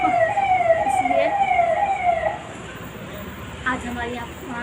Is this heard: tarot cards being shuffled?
no